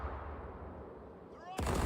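Ship's cannons firing a broadside in Caribbean Legend, a sudden loud booming blast erupting at the end after a quieter stretch of ambient sea and game noise.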